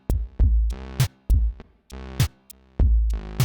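A Krotos Concept synth oscillator gated on and off by a square-wave LFO, playing a loud, deep, buzzy bass tone in four chopped bursts. Each burst opens with a brief spitty click.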